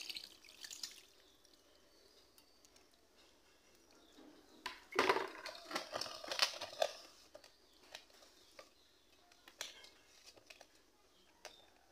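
Water is poured onto small mola fish in a pan, a brief, soft splashing trickle midway, with light drips and faint clinks before and after in a quiet kitchen.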